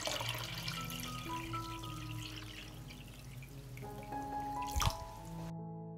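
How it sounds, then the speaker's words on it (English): Water pours steadily into a pot holding jars set up for pasteurizing, a continuous filling splash whose pitch rises as the pot fills, quiet and close, ending abruptly. "I will pour water into the pot up to the height of the lid."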